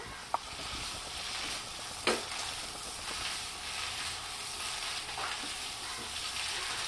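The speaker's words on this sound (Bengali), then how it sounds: "কাঁচা কাঁঠালই আমি রান্না করছি একটু কষতে টাইম লাগবে" Raw jackfruit being sautéed in a pan for a Bengali-style curry, giving a steady close sizzle and frying crackle throughout, with a few sharp stirring clicks and no talk.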